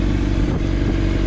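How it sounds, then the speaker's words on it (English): A Honda CBR600RR sport bike with about 22,990 miles sits idling nearby, its engine giving a steady, even mechanical drone with light clatter and no change in revs across the short stretch. "leave the bike running for a minute."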